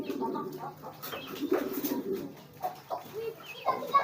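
Pigeons coo in low, throaty bursts, several overlapping calls repeating close by with soft rustling in between.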